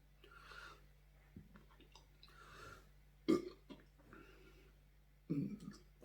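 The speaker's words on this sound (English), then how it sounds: "now that I've got the burps out of the way" A man burps after tasting a home-brewed craft beer, two loud burps standing out from quiet breathing and faint murmuring close to the microphone.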